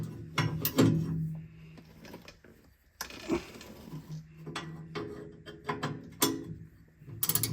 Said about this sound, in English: let's see if any of these bolts come loose